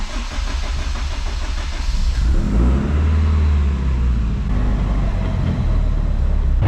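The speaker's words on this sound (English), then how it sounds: "I'll throw it up in the air, slap her in gear, and spin the drive line" On a lift, a Honda Civic Type R converted to all-wheel drive runs in gear with its drive line spinning. A mid-pitched engine hum swells into a louder, steady close drone after about two seconds.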